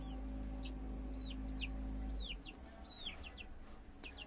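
Young chicks in a coop give a run of short, high, repeated peeping calls, close and fairly clear, about a dozen chirps spread evenly over a few seconds, with a low steady hum under the first half.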